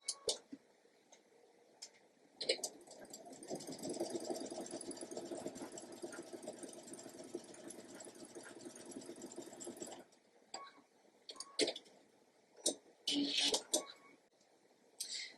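A sewing machine stitches quilt block pieces together, a steady mechanical hum and tick running for several seconds, then broken into short bursts of sewing near the end, fairly faint and close.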